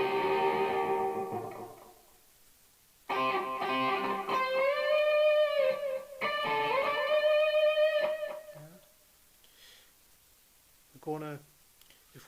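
An electric guitar plays the solo from a song with sustained, bending lead notes and a few short bursts between pauses, then faint trailing notes after a gap.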